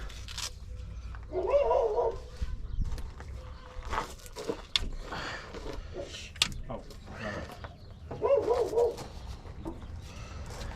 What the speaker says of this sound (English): Thought that was my dog barking.